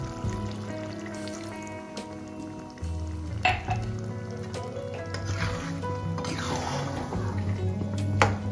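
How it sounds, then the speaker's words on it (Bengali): Tea liquor poured into mutton kosha frying in a pan, giving a steady sizzle that swells after a few seconds, with liquid splashes and stirring scrapes throughout. "এবার আমি দিচ্ছি চায়ের লিকার।"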